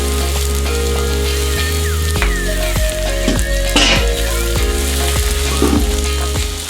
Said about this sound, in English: Bread's toasting up really good.